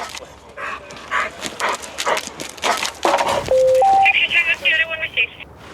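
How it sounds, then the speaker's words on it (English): A police dog team's dog barks in short bursts amid radio chatter and voices, with a steady electronic tone partway through. "A dog team is called in."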